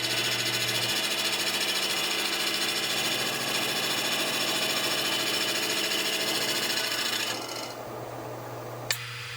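A big leaf maple burl spins on a lathe as a 5/8 bowl gouge cuts it, giving a continuous loud scraping, rasping whir that drops off near the end, followed by a single sharp knock.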